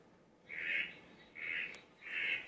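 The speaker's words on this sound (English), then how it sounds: "I'll just play you a few calls. We'll try the rubella frog." Recorded call of a rubella frog, played back: three drawn-out, nasal, gull-like squawks in a slow, even series, fairly close and alone against quiet background hiss.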